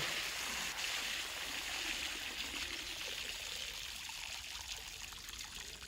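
Water pours and trickles steadily and close by for several seconds as someone drinks during a live stream, with a continuous splashing flow and no talking.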